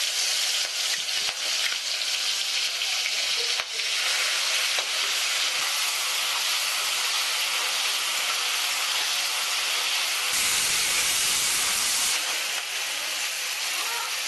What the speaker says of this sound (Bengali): আলু ভাজার পর যে তেলটা রয়েছে সেই তেলের মধ্যেই আমি চিংড়ি মাছটা ভালো করে ভেজে নিচ্ছি